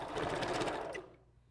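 A sewing machine backstitches a seam while a wig is assembled from raw Indian wavy hair, a fast rattling run of stitches heard up close that cuts off abruptly after about a second, leaving a low hum.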